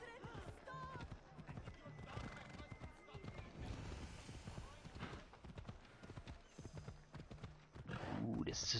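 Horse hooves clip-clop in the video game Assassin's Creed Odyssey, rhythmic and fairly quiet, with a neigh and game sounds mixed in while someone talks over them.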